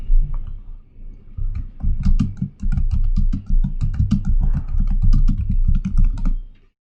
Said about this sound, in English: So let's type that at the command prompt.